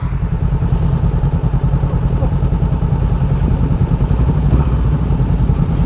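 A motorcycle is push-started, giving a loud, continuous rough engine chug with a fast, steady pulse and some clattering, recorded close.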